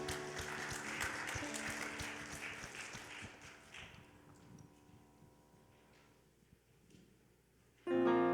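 Congregation applause during a Sunday service at Vancouver Central Presbyterian Church, a broad wash of clapping that fills the room, then thins and fades over several seconds before a new sound enters at the end.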